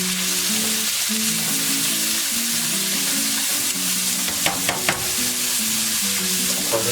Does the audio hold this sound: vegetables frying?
yes